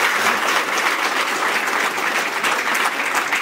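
A school class of sixth graders claps together in steady, dense applause that stays loud and even from start to finish, with no voices rising above it.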